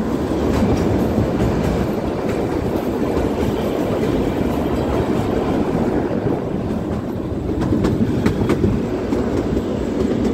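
Kalka–Shimla toy train on the heritage narrow-gauge line emerging from tunnel 103 near Shimla, a steady loud rumble of wheels and carriages with clattering rail noise throughout, no talk.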